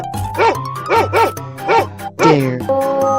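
A cartoon dog barks in a quick series of about five bright yapping woofs, close and loud, ending in a longer whining tone.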